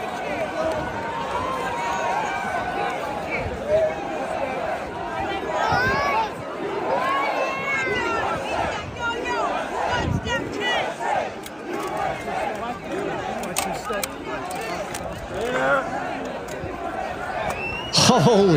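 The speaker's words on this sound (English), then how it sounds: "This is the crowd for outside of Madison Square Gardens right here." A large street crowd gathered outside Madison Square Garden in New York, a dense, continuous babble of many voices with scattered shouts and cheers, steady and fairly loud throughout with a louder burst near the end.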